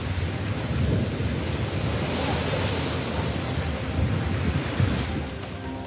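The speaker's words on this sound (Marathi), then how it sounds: "अति मुसळधार पाऊस आणि वादळी वारे वाहत आहेत" Very heavy rain from Cyclone Tauktae pours down amid stormy winds, a loud, dense, continuous roar of rain and gusts with low rumbling and no speech.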